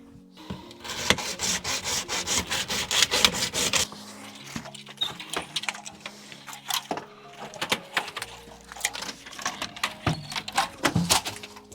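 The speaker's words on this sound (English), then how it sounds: "Cue a saw." A hand saw rasps back and forth through wood in quick, rhythmic strokes, pausing briefly before resuming with a slower series of scraping cuts, close by.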